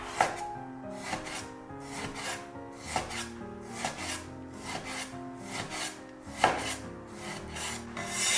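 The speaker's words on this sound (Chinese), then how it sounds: "然后切成薄薄的厚片就可以了" A knife slices pork belly, with the skin removed, into thin pieces on a cutting board. About nine close, rhythmic slicing strokes rasp through the cut, each ending in a soft knock on the board, with no talking.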